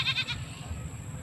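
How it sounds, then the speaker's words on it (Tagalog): A goat gives a brief bleat, followed by a short wavering call, under a steady outdoor background rumble. "Yan po si Super Tatay galing doon sa kanyang kambing"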